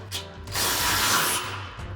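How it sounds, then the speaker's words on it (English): A 13mm socket ratchet tightens the combo bolts on a RedRock TC2 drop step running board for a RAM 2500 truck, giving a close, steady clicking whir that runs for about a second and a half with no talking. "Now we'll tighten down our 2 combo bolts for our step. So we'll use our 13mm socket for the bottom one."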